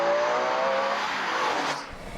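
A Ferrari 612 Scaglietti V12 drives past with a smooth, high engine note that sounds loud and sustained, then drops away abruptly as the car passes.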